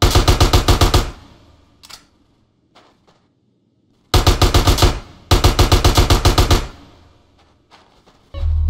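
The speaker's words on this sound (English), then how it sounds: "Get some suppressing fire in there." Rapid automatic gunfire in a Grand Theft Auto San Andreas Definitive Edition street shootout with cops and gang members, loud near bursts of evenly spaced shots, a long pause with scattered faint pops, then two more sustained bursts.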